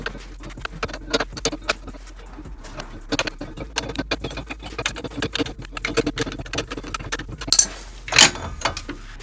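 A bearing puller draws a tight bushing out of the rear hub of a Factory Five 818. Close, dry clicks and creaks tick irregularly, then a couple of sharper, louder snaps come near the end.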